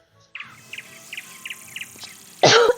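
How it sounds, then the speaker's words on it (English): A person who is sick coughs once, a sharp, loud, close burst at the end, after a run of faint, regularly spaced chirps in a quiet Wizard101 game scene. "I apologize if I am coughing a lot during this video"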